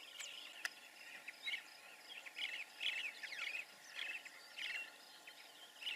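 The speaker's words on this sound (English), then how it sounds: "That's a hoopoe," A hoopoe calls in the morning outdoors, with repeated short chirping bursts in an irregular rhythm, moderately near, over a quiet, steady natural background.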